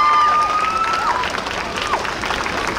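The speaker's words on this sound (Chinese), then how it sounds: "那我们再次用热烈的掌声" An audience at a Taipei music contest final showcase claps after a live performance, a dense burst of applause with a whistling tone over it that settles into steadier clapping.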